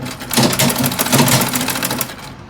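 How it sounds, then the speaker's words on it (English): A sewing machine runs a straight seam through organza gown pieces, its needle chattering in a fast, steady rhythm, close and clear for about two seconds before easing off. "I'm going to sew it straight until I get to close to the middle"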